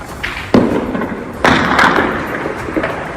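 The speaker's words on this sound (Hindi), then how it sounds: "गोलियों की आवाज आप सुन सकते हैं, जोरदार धमाका," Gunfire and a loud blast in an attack on Mach jail in Bolan, Balochistan: two sharp, loud booming impacts about a second apart over a rough, noisy background, with fainter cracks between them.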